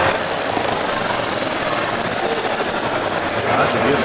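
A prize wheel spins at the Collect-A-Con DFW Pokemon card event: a rapid, continuous ticking clatter that gradually slows, heard over a loud crowded-hall din with voices.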